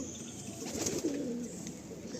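A loft pigeon cooing softly, a single low gurgling call rising and falling in a quiet room.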